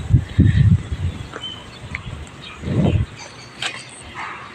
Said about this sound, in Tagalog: Ito may aso.